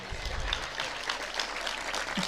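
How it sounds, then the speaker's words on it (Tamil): An audience applauds in a steady, moderately loud patter of many hands that carries on for the whole short stretch, with no other sound standing out. "கைத்தட்டல் எல்லா திருநெல்வேலி அம்மாக்களுக்கும் சமர்ப்பணம்"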